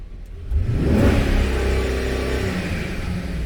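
The 5.3 V8 engine of a 2008 GM 1500 truck is revved to wide open throttle, surging up loudly and close, then holding a strong steady roar to the end.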